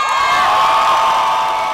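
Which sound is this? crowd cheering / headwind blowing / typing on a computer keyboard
crowd cheering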